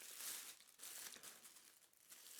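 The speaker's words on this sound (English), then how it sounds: "So let's go ahead and remove it from its clear plastic bag packaging." Clear plastic bag packaging crinkles softly as it slides off a stainless steel kitchen roll holder, a faint, close rustling that rises and falls with no talk.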